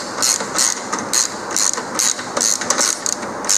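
A socket ratchet screws down a Vance Manufacturing jack plate on a jon boat, giving repeated bursts of bright clicking in an uneven rhythm, close and fairly loud, with no talk.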